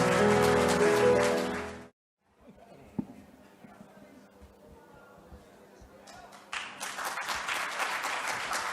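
Convention audience at a Christian businessmen's fellowship gathering: loud applause that cuts off abruptly, a quiet stretch of low murmuring and a single knock, then clapping rising again toward the end.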